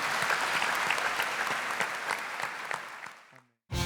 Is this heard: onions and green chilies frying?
no